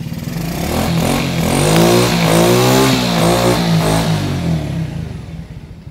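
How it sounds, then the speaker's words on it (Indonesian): Motorcycle with a double starter idling steadily right after starting, a loud close smooth engine drone running evenly throughout with no talk over it. "double starter hidup ya, mesin sangat halus."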